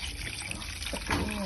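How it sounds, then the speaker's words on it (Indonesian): Boiled water is poured from close by into a container of white rice before blending, a short, steady splashing trickle with no talking. "Dan kita masukkan air yang sudah kita rebus tadi."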